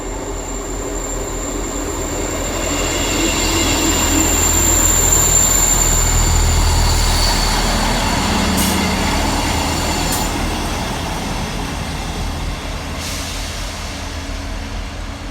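Passenger train unit 158881 pulls into Romsey Station, a steady rumble and rail roar swelling to a peak midway then easing, with faint wheel squeals and high metallic hiss above.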